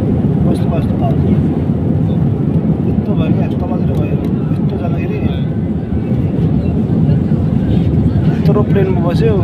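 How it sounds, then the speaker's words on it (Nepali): Steady, loud low drone fills a passenger airplane cabin on a flight from Nepal toward Europe, an unbroken roar throughout with voices murmuring faintly beneath it. "प्लेनमा बस्यो"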